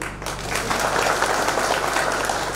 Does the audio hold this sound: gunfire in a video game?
no